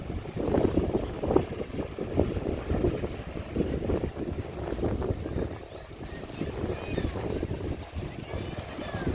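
Wind buffets the microphone on the Los Cristianos beach promenade in Tenerife, a steady low rumble with gusty swells over faint background bustle, while someone talks throughout.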